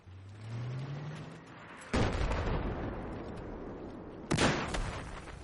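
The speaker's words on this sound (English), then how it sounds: "So I throw the flashbang at the ground" In Battlefield 4 gameplay, a thrown flashbang grenade goes off as two sharp, booming blasts a few seconds apart over a low rumbling game soundscape.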